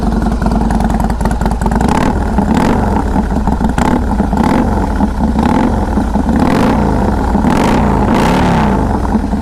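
A 2016 Harley-Davidson Softail Custom motorcycle fires up and revs, a loud close rumbling idle punctuated by several sharp rising throttle blips, each swelling and falling back through the run.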